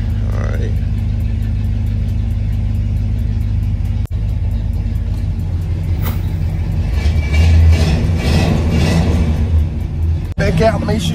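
A car engine runs loud and near, swelling briefly in a rev toward the end amid steady rumble, with people talking over it.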